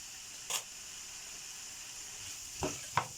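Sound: chicken filling sizzling in pan while being stirred with sauce

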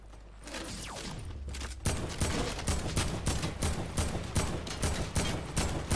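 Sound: gunfire in a video game

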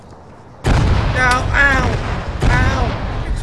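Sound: explosions in a video game

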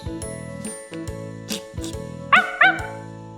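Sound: dog barking

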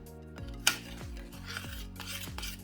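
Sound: stirring the glaze mixture in a bowl

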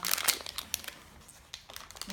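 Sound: unwrapping Kinder Surprise foil packaging

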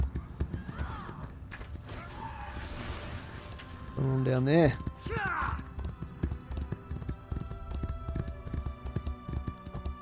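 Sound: horse hooves galloping in Elder Scrolls Online video game

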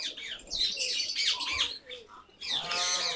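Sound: pigeons flying and calling

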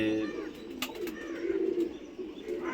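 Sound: pigeons cooing

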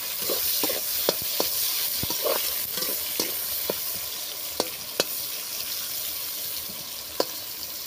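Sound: soya chunks frying in oil

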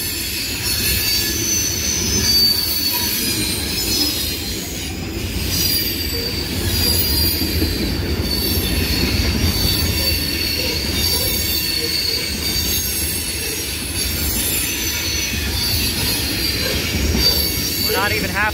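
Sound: long freight train passing

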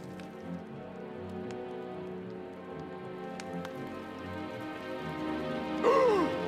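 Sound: heavy rain pouring down

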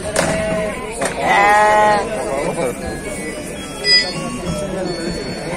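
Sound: sheep with lambs bleating at a sheep market

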